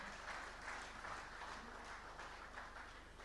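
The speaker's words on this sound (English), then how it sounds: "let's appreciate him. Let me hear you clap" Faint, steady applause from an audience at a public presentation of NEITI oil, gas and mining reports, a dense wash of many hands clapping with no voices, distant and even throughout.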